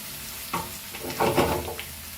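Chopped vegetables fry with soy sauce over a high flame for veg fried rice, giving a steady, close sizzle with louder bursts of stirring toss in the middle.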